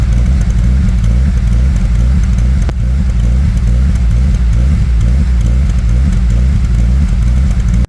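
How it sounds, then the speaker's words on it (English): A BMW M52 engine with a partly stock exhaust idles rough and loud, with a heavy, low, uneven throb that continues steadily for about eight seconds. "it runs a bit rough and sounds really lame with the partly stock exhaust"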